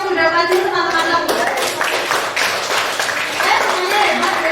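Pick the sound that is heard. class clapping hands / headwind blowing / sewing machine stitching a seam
class clapping hands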